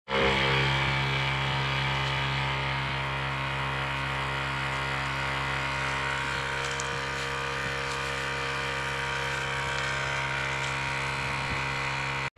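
A Ryobi 18V battery-powered sprayer pump runs with a steady, continuous electric motor hum and strong tonal whine, close and unchanging from start to a sudden cutoff.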